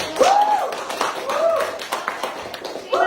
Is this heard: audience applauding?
yes